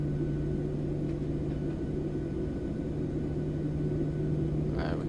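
In Microsoft Flight Simulator, an airliner's jet engines drone on the taxiway as thrust is added, a steady low rumble with a constant humming tone that holds evenly throughout, with no voices.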